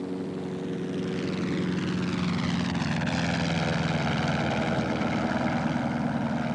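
Burt Rutan's Voyager aircraft flies through desert air, a steady propeller-engine drone with a slowly shifting pitch, loud and continuous for the whole stretch.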